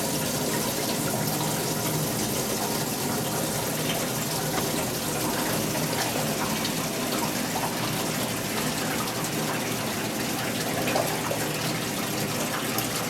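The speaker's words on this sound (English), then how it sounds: "to allow water to flow into the tank" A steady, loud rush of water pours continuously into a tank from a water softener outlet, an even gushing flow with no pauses and no talking.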